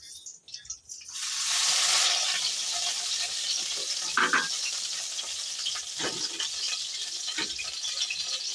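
A heated wok starts sizzling and hissing loudly as oil goes in and keeps up a steady frying crackle, with a few soft clinks and stirs along the way.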